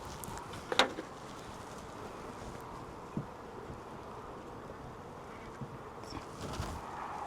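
Honey bees hum faintly and continuously around a hive in the background, with one louder buzz passing close early on and a few soft rustles.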